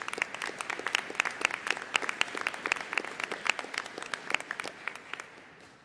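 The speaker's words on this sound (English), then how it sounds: "Let's give them a round of applause." Audience applause at a commencement ceremony, a steady crowd of many hands clapping densely for about six seconds, moderately distant with no voices over it.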